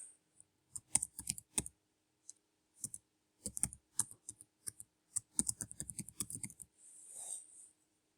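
Computer keyboard typing as data is entered, bursts of quick, close key clicks separated by short pauses, ending with a soft brief rustle.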